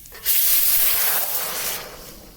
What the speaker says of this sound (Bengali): আমি সেই চিকেনের স্টকটা ঢেলে দিচ্ছি